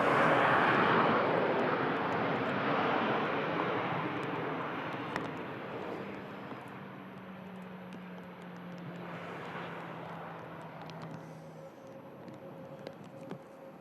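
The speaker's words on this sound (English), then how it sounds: "Do you have the Virgin A330 about to touch? That's on final approach." A Virgin Airbus A330 on final approach into Manchester roars loudly at first, then fades to a softer, distant engine rumble with a faint sustained whine, no speech heard.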